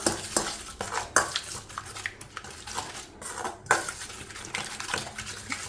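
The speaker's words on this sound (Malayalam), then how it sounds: "ഇനി നമുക്കിത് നന്നായിട്ടൊന്ന് മിക്സാക്കി എടുക്കാം" A spoon clinks and scrapes against a bowl while spices such as garam masala and salt are stirred into a bread mixture, giving a busy run of close metallic taps and scrapes.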